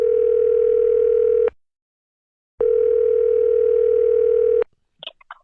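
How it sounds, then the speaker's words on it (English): Steady telephone dial tone heard while placing a call, sounding loud and unbroken for about a second and a half, cutting out briefly, then returning for two more seconds before stopping; faint clicks follow. "We're dialing up my wife, Tara, this morning."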